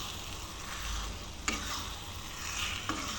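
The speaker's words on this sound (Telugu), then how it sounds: "కొత్తిమీర వేసేసుకొని కలుపుకోవాలి ఫ్రెండ్స్." Egg and tomato curry being stirred in a pan after fresh coriander goes in, a soft continuous sizzle with a couple of sharp utensil scrapes against the pan, no talking.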